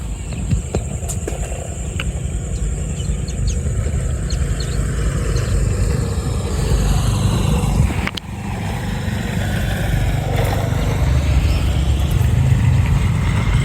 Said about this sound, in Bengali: মোটর সাইকেল আসতেছে